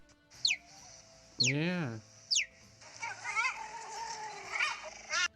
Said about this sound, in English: the best this spotted doormat can do is chirp like a bird